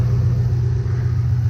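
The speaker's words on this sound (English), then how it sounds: "I mean, the engine sounds good" A 2005 Ford Mustang GT engine idles with a steady, deep low rumble, loud and close with no change in speed throughout.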